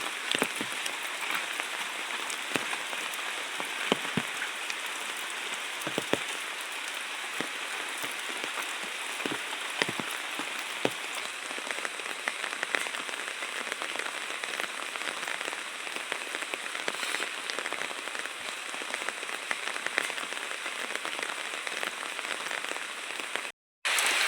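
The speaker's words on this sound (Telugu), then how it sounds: "వర్షం పడుతుంది" Steady rain patters onto rocks in a rural hillside setting, a dense, even hiss of drops with scattered sharper taps, continuing without pause and with no voices.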